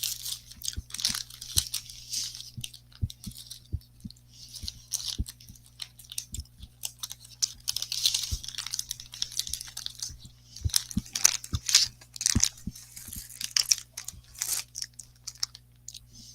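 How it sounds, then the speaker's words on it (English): Skittles candy being chewed close up, with repeated wet crunching and crinkly mastication clicks in an uneven rhythm over a steady low hum, no talking. "Don't mind me chewing on Skittles."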